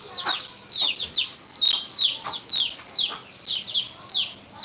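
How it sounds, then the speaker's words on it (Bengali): High, repeated chick peeps in a steady rhythm, with occasional hen clucks underneath, close and clear. "মুরগি বাচ্চা"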